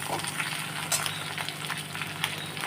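A gasagasa (poppy seed) gravy mixture fries in a pan, a continuous close sizzle with bubbling and occasional stirring scrapes, steady and fairly loud.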